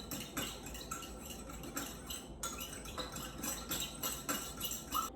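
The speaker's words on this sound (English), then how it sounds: "And whisk with a fork until the mixture is smooth." A fork whisks a cornstarch mixture in a bowl for egg drop soup, with quick, light metallic clinks and scraping in an irregular rhythm, close up and fairly quiet, with no talk.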